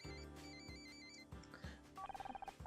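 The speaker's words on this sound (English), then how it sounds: "God's darn phone call." A phone rings in the video game Murder by Numbers, a repeating electronic ringtone with tonal chimes over quiet game music, ending in a quick pulsing trill.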